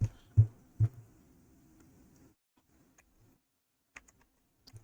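Computer keyboard typing of a gcloud storage command: a few close, fairly loud keystrokes at first, then a quiet gap and sparse light taps toward the end.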